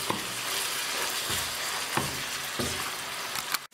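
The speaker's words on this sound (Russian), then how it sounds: "Все перемешиваем и обжарим еще 1 минуту." Minced meat with tomato paste sizzling steadily in a frying pan, with a few soft scraping stirs of a spoon breaking through the continuous close frying hiss.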